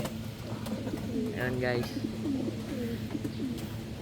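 Pet pigeons or doves coo softly in a short burst of low, throaty calls under a brief spoken greeting, close by in a backyard setting.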